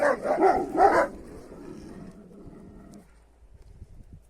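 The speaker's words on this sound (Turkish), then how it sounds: "Tabii hızlı giriş yapınca bir havlaştılar." Several loud, quick barks from dogs close by in the first second, then a quieter stretch with faint shuffling.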